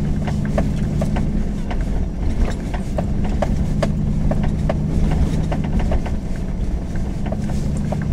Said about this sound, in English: we're going to drive on the grass